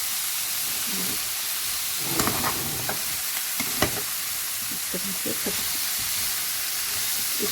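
Cauliflower and meat with turmeric fry in a pan, a soft, steady sizzle broken by a burst of scraping stirring strokes in the middle, followed by lighter clinks and stirs.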